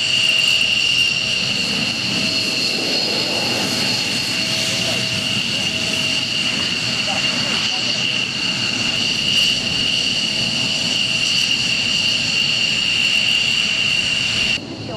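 Dutch Air Force F-16 fighter jet flying, a steady loud jet roar with a high whine that holds level for the whole stretch, with faint voices in the background.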